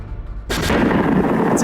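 A loud, sudden shot from the cruiser Aurora's cannon bursts in after a low rumble, followed by a sustained roaring wash of noise.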